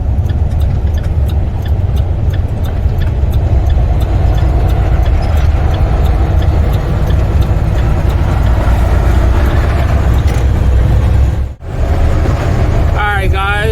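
A container truck cruising on a highway through the Virginia mountains, a loud steady cab rumble and road roar throughout with a brief dip near the end, and a voice talking over it.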